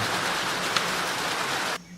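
Steady rain falls in a jungle around an outdoor restaurant, a dense broadband patter that holds evenly, then drops away abruptly near the end.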